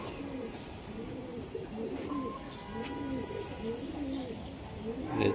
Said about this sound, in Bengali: বাহ, অনেক সুন্দর রামপুরি কবুতর তাই না?